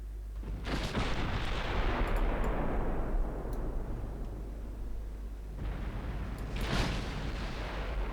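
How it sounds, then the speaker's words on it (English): Heavy naval guns on a battlecruiser in Ultimate Admiral Dreadnoughts boom out, two deep rumbling salvos several seconds apart that roll on and fade, with no voices over them. "Battlecruiser firing off into the horizon."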